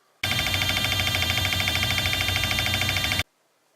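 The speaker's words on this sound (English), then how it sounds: "First is the alarm buzzer. This goes off to let you know that the engine is about to start" A Tri-Pack engine alarm buzzer sounds before the engine starts, one loud, harsh, raspy electronic tone held steady for about three seconds, then cut off abruptly into quiet.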